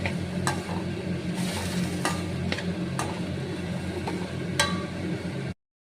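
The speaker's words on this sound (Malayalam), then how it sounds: "ഞാനിപ്പം നമ്മുടെ ഈ ഹോഴ്സ് ഗ്രാം എടുത്ത് ഇതിലേക്ക് ഇട്ടിട്ടുണ്ട്. ഇത് ഓൾറെഡി വെന്തതാണ്. ജസ്റ്റ് ഒന്ന് സോട്ട് ചെയ്തെടുത്താൽ മതി." Already-cooked horse gram sautéed in a pan, with a continuous soft sizzle punctuated by several sharp clinks and scrapes of a spoon against the pan.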